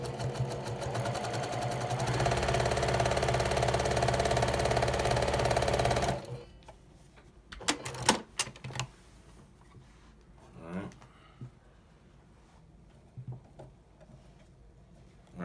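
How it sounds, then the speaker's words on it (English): A sewing machine stitches a quarter-inch seam on pinwheel quilt pieces, a loud, fast, steady mechanical whirr lasting about six seconds, then it stops and leaves scattered handling clicks and rustles with a voice talking. "We're gonna sew down this side right here"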